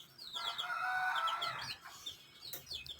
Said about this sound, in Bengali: নিচে মুরগিগুলো খাবার খাচ্ছে, দেশি মুরগির বাচ্চা সব।